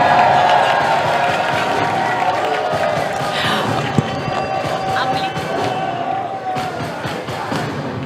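Large crowd at a team bouldering climbing competition in an arena, a steady wash of cheering and murmur with scattered claps and a sharp thud near the middle, continuing throughout at a fairly loud level.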